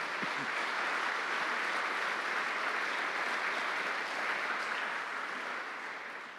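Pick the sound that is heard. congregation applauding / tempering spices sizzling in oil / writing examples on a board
congregation applauding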